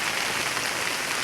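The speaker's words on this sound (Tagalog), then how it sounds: "Ayan, umuulan-ulan." Rain falls on a garden of potted plants and cacao trees, a steady soft hiss of drops spread evenly with no distinct close impacts and no voices.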